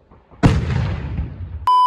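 A single sharp, loud firework bang bursts out on New Year's Eve, followed by a rumbling decay, then a steady electronic tone cuts in at the end.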